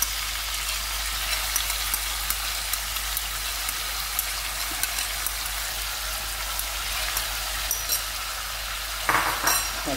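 Chopped onion frying in a hot pan with cinnamon and black pepper for a traditional Algerian kebab dish, a steady crackling sizzle with faint stirring clicks and a brief clatter near the end.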